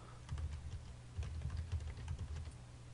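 Brisk computer keyboard typing while a file name is entered in Adobe Illustrator CS6, a run of close, quiet key clicks in uneven bursts with short pauses and no voices.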